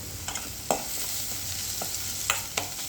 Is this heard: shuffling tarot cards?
no